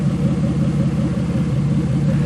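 A 2002 Buick prepared for a demolition derby drives ahead with a steady, loud, rumbling engine idle and low throb, close by and unbroken, with no one talking.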